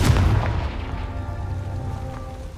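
A Confringo blasting spell goes off in Hogwarts Legacy, opening with a loud, deep boom that rolls into a sustained rumbling tail lasting a couple of seconds, with no talking over it.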